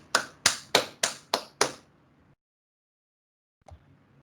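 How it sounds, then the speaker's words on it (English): Six sharp, evenly spaced hand claps at a teachers' day celebration held by an IIChE student chapter. They stop abruptly and are followed by silence and one soft knock. "Let us welcome all the teachers with big round of applause on this day."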